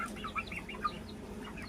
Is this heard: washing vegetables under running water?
no